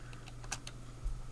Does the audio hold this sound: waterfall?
no